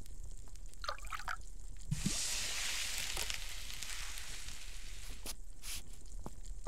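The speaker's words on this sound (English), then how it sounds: "Pour the broth from the pot into the pan." Broth poured from a pot into a pan in the cooking game Cucina Stellata, a soft liquid trickle and splash rising for about a second amid low background hiss, with faint drips before and after.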